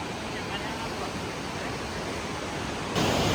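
A river at Devprayag in Uttarakhand rushes past in a loud, constant roar, a dense, unbroken wash of flowing water with a slight surge at the end.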